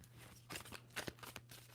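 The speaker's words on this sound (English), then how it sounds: "2 more shuffles for Taurus." A tarot card deck being shuffled by hand, giving soft, quick papery riffles and flicks in short bursts, close up over a low steady hum.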